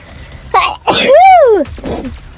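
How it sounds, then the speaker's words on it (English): A single loud, close human sneeze with a drawn-out, wavering wind-up and a sharp burst, heard while playing a Ratchet and Clank video game, with quieter game sounds or a faint voice around it. "Oh, I need to sneeze."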